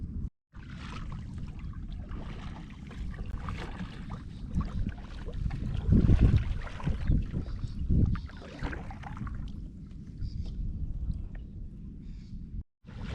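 A kayak paddled across calm water on the way to a secluded island, with rhythmic splashing paddle strokes and drips over steady wind buffeting the microphone, building to a louder stretch of churning water midway.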